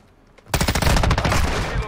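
Heavy automatic gunfire from the video game Modern Warfare erupts suddenly after a quiet moment, a loud, sustained rapid burst of shots close by.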